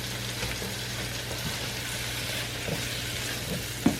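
Sausage, peppers, onions and garlic sizzle steadily in a pan, a close, even fry with light stirring scrapes and one sharp clink near the end.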